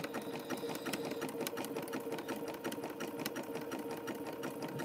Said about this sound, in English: the bowl's hitting that little thing on the side of my sewing machine